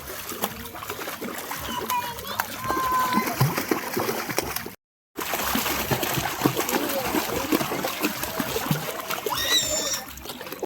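Children splash and play in water outdoors with continuous close splashing and sloshing, broken by a brief gap, while voices talk and call over it.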